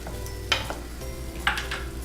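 Garlic, sea salt and piment d'Espelette stirred in a pot for bouillabaisse, with two brief scraping strokes of a utensil over a low sizzle, close and fairly quiet.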